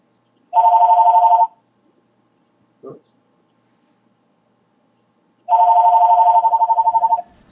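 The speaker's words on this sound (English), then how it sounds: "I gotta answer that one. It's not my phone." A telephone bell rings loudly in two long electronic bursts with a pause between them, the second trailing into quick pulses, and one short murmured word falls in the gap.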